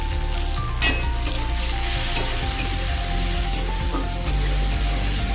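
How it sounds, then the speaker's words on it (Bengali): Potatoes sizzle loudly in a pan with turmeric, salt and tomato as the mixture is stirred and fried. The hiss is continuous and close, with occasional scrapes and no talking. "এবার আর একটু ভালোভাবে কষিয়ে নেব।"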